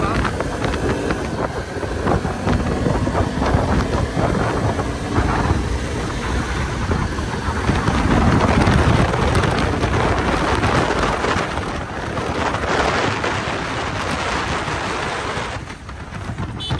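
Suzuki Gixxer 250 in matte blue, a 250cc motorcycle ridden hard at top speed, with loud sustained engine roar buried in heavy wind rush across the mic, steady and close throughout.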